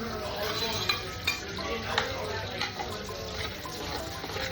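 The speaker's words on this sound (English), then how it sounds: "Put the onions in." Onions fry in a pan for Dominican moro, a low steady sizzle with occasional stirring clicks and utensil taps, heard close at moderate volume.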